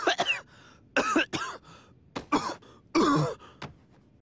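A cartoon character coughs in an animated comedy: a series of harsh, close coughs in uneven bursts separated by short pauses, with no talk alongside.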